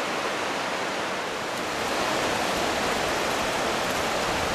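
The Smith River, running high after heavy January rain, rushes with a dense, steady broadband roar of flowing water that stays continuous and fairly loud throughout, with no voices present.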